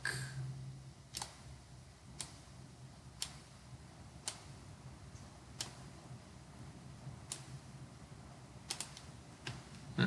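Computer mouse clicks at a desk, about a dozen sharp, faint single clicks spaced irregularly over a low steady background hum, with no talk.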